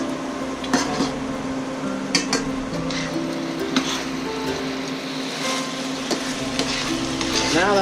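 Sweet and sour sparerib sauce with ginger and star anise reduces in a pan, giving a steady sizzle and bubbling with occasional clinks and scrapes of a utensil against the pan.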